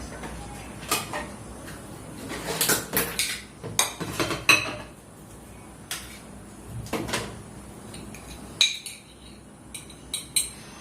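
A plate and a jar are handled in a kitchen during refilling, with scattered clinks, taps and knocks of dishware and lids, close by and fairly quiet, with brief gaps between them.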